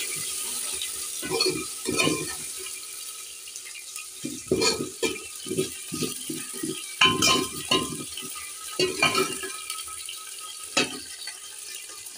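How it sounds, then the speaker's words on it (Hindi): A spoon stirs an Indian vegetable curry tempering of onion and fenugreek seeds in a pot, giving scraping, sizzling strokes in uneven bursts with short pauses between them. "और अब हम इसको भी चला लेंगे।"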